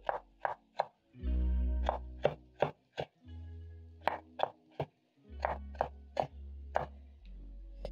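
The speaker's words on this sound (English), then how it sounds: "I'm going to cut the leek in half just like this, and then I'm going to finely chop up my leek." A knife finely chops a leek, halved beforehand, on a board while red cabbage is being made: a string of crisp, evenly spaced chops, close and fairly loud, with short pauses between runs.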